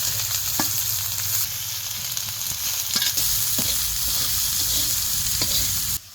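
Onion fries in a ladleful of oil with mustard seeds, cumin and garlic, a loud continuous sizzle close by with occasional stirring clinks and scrapes, the hiss cutting off abruptly at the end.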